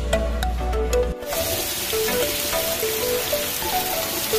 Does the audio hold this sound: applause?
no